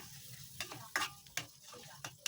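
Lubi lubi leaves simmering in coconut milk, stirred in a pot to keep the bottom from burning: soft bubbling under several distinct scraping strokes and spoon knocks, close and fairly quiet.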